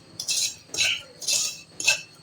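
A metal spoon stirs and scrapes semolina halwa roasting in ghee in a pan, making four rhythmic, evenly spaced scraping strokes that are close and moderately loud.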